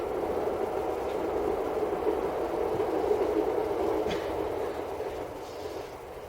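A train rumbles past in a steady, loud low-mid roar that holds for several seconds and eases slightly toward the end, with no voices over it.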